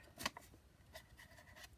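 Paper being cut for a handmade junk-journal envelope, heard as a few quiet, crisp snips and rustles, close by and faint, with one sharper cut near the start.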